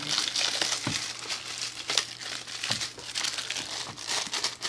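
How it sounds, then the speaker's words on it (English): A plastic bag of sports cards is torn and crinkled open up close, giving a continuous rustling crackle with sharper crunches throughout and no talking. "let's open this bag, rip into it"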